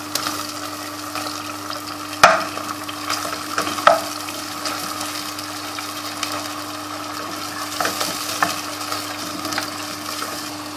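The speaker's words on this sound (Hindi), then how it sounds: "तीन मिनट प्याज भुनेगा।" Chopped onions frying in a pan while a ridge gourd dish is cooked, giving a steady soft sizzle with a couple of sharp clanks of stirring, no voices.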